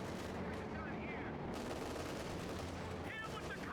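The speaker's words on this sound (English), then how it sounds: "That's a lot of machine guns and armor coming this way." Dense machine gun bursts and rifle fire crackle continuously through a World War II battle in a video game, with armor advancing and the shots loud and sustained throughout.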